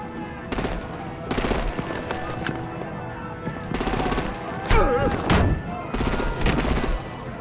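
Gunfire and artillery in a Batman video game, heard as repeated loud bursts of rapid shots in clusters separated by short gaps, with a few sharp impacts and faint background activity.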